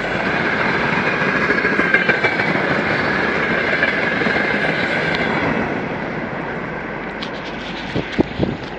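A train on the Burepolom narrow-gauge railway rolls past nearby with a loud continuous rumble and rhythmic clatter of wheels, fading slightly, then a few sharp clanks near the end.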